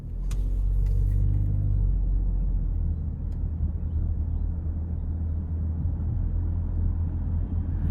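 A 2026 Nissan Rogue S with a turbocharged 3-cylinder engine runs with a steady, low, even rumble heard from inside the cabin, with no voices over it.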